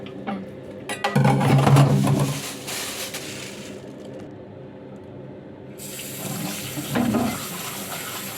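Lotus root being rinsed under a running kitchen tap, with a steady splash of water that swells louder for about a second and again near the end, then settles to a quieter flow.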